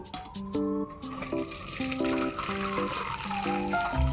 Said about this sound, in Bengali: স্টুটাকে আমি ছেঁকে নিচ্ছি